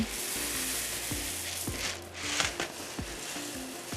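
A sizzling sweet mixture for rice cakes is stirred in a pan, a soft steady frying hiss broken by faint scraping strokes at a gentle rhythm, close and quiet.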